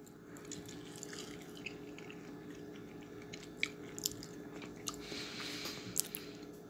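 Someone biting into and chewing fresh dragonfruit (pitaya), quiet soft wet chews and a few sharper bite clicks over steady low background hum, with no talk.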